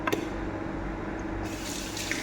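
Fingers rinsed under a running kitchen tap, a steady, close rush of water splashing into a sink for a couple of seconds, with no speech.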